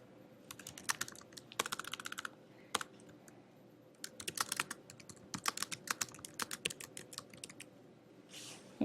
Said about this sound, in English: So I can type in their email address and write a personal note.